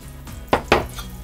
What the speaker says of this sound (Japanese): バターが溶けたので、ここで鮎の魚醤が入ります